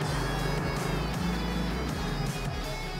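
A second-hand motorcycle idles after starting, its engine running in a steady low throbbing pulse with faint revving swells, loud and close throughout, with no voices.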